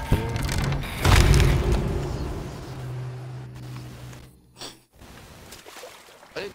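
A gunpowder keg detonates aboard a ship in Sea of Thieves, giving a loud, deep boom that swells and then fades into a long low rumble, followed by quieter scattered sounds.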